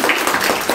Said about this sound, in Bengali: এটা জোরে হাততালি।